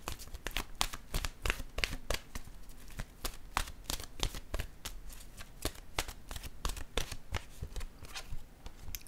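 Oracle cards from an intuitive soul deck are shuffled and riffled, giving a steady stream of crisp close flutters and slaps that keeps going throughout with no talking.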